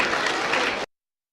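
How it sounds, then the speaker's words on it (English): An audience at a school production of How the Grinch Stole Christmas breaks into a short, loud burst of applause that cuts off abruptly after under a second. "give him a round of applause"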